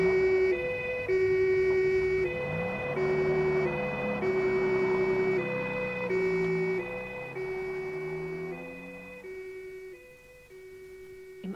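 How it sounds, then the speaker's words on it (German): A loud two-tone ambulance siren alternates steadily between high and low pitches for the whole stretch, with a low vehicle rumble underneath as it speeds toward a hospital. "Und jetzt werden wir mal ein großes Sirenengeheul einschalten und so schnell wie möglich zum Krankenhaus fahren."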